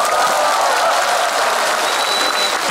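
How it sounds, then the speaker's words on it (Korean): Concert audience applauding steadily and fairly loudly at an outdoor arts festival stage, a dense continuous wash of clapping with faint crowd noise, no talk over it. "박수 한번 주시고."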